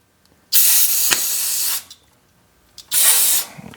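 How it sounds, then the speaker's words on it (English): Brake cleaner sprays from an aerosol can onto the front brake parts of a 2011 Ford Fiesta in two close, hissing bursts, a long one followed by a shorter one after a pause, with no talking. "I'm going to use some of the brake cleaner and I'm going to spray this off."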